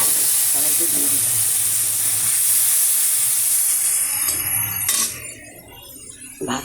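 Yardlong beans and potatoes hit hot oil in a wok with a loud, steady sizzle and hiss that fades after a few seconds, followed by a brief clatter.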